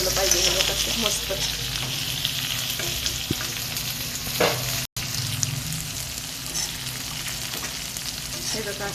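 Garlic sizzles loudly in hot oil while being stirred for a cluster bean dish, a continuous crackling fry punctuated by scraping stirs of the spoon close to the pan.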